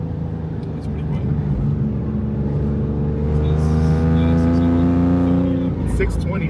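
A Maserati MC20 with its 3-liter six-cylinder engine accelerates hard, the engine note climbing steadily in pitch before a quick lift-off, loud and close from inside the car.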